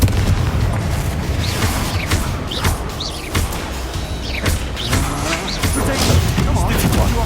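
Confringo spell blasts in Hogwarts Legacy combat, delivered as repeated sharp booming bursts over a steady background of game music and effects, several impacts spaced irregularly across the stretch.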